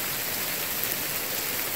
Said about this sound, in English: It just downpoured, so we're gonna hang out here for a minute.